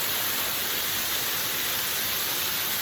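A waterfall on a walking track, a double fall, produces a constant, dense, loud rush of water that fills the whole moment without a break or any voices.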